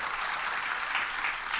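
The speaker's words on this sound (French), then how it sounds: "Et voilà, on peut l'applaudir." A studio audience applauds a podcast guest, brief steady clapping of moderate loudness with no voices over it.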